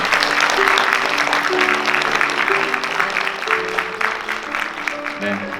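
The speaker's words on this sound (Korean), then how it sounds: "신랑 신부 인사 여러분 박수로 축복해 주시기 바랍니다." Wedding guests at a Seoul wedding hall applaud the bride and groom in a continuous, dense clatter of clapping that lasts throughout, with a faint tonal music bed underneath.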